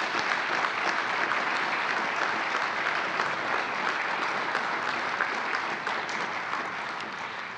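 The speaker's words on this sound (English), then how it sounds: "let's have another round of applause for all of our Distinguished Service Medal honorees" An audience applauds steadily and loudly for Distinguished Service Medal honorees at a NASA Agency Honor Awards ceremony. The dense, even clapping continues without a break for the whole stretch, with no voices over it.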